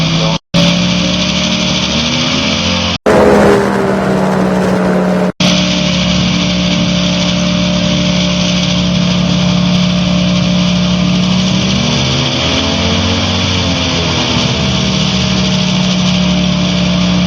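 A Challenger II ultralight aircraft engine runs steadily while taxiing on grass, a loud, close, continuous buzzing drone with slight pitch shifts and brief cutouts.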